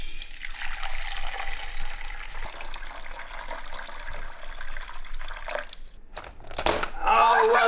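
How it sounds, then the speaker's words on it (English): Warm water runs from a tap into a wash basin for toy monster truck mud play, a continuous splashing gush close by that swells louder near the end, with no talk. "Now it's time to put some warm water in the wash."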